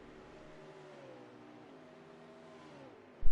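A race car engine in a sim racing game holds a steady whining drone through a long back straight, with the pitch falling slightly under hard braking, then a brief loud thump right at the end.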